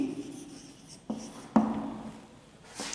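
A teacher writes out an answer during an English lesson, leaving soft scratchy strokes and a few sharper taps against a quiet room, with no talking.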